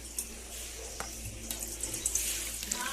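Water runs from a tap or is poured into a pet's drinking bowl in a steady trickle, with a few faint clicks and splashes over a soft background hum.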